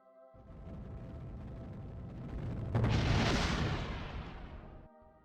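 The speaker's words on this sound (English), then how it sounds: "As soon as I heard that explosion, I knew exactly what it was." A docking port blowing apart in Kerbal Space Program, heard as a dense roaring rumble that swells into a louder, bright burst midway and then fades out, with no talk.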